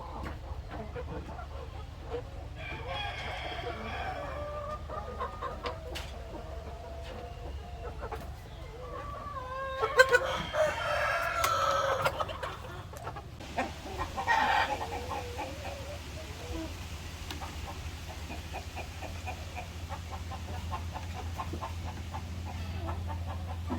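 Native chickens cluck and cackle nearby in scattered bursts over a steady low hum, a few louder squawks rising midway, with faint talk in the background.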